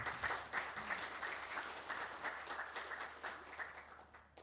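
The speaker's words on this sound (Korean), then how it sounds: "박수로 모시겠습니다" An audience at a technical seminar on high-speed rail claps steadily to welcome a railway official to the podium, a soft, even patter of many hands that tapers off toward the end.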